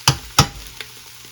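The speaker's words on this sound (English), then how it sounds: "Now I'm just going to mix my spices in." Two quick scraping stirs of dry spices through a pot of frying vegan three-bean chili, each a short sharp clatter, followed by a soft, faint sizzle.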